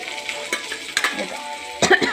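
Garlic, cumin and green chilli fry in hot oil for a Telugu leafy chutney. There is a close, steady sizzle with a few spoon scrapes and stirring knocks mixed in.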